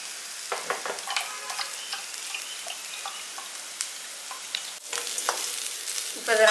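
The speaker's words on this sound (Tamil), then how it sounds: "இப்போ இது நல்லா வெங்காயம் வதங்கிடுச்சு." Onions sauté in a pan with a light, steady sizzle and occasional scraping stirs, heard close and fairly soft.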